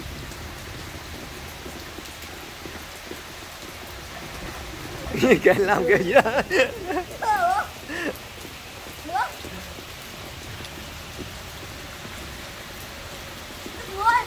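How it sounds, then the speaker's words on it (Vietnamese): Heavy rain pours steadily at a resort, a constant hiss that fills the whole stretch, with a few people talking briefly in the middle over the downpour. "Mưa, mưa càng ngày càng to."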